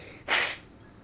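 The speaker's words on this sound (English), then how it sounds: "Let me blow my nose." A person who is sick with sneezing and a cough blows their nose once, a short, sharp, close burst of air that lasts under half a second in a quiet room.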